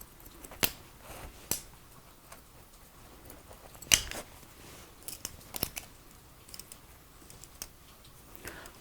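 Hair scissors snip through fine, curly, bleach-damaged hair during a short bob cut, giving sparse, crisp clicks at irregular intervals against a quiet room.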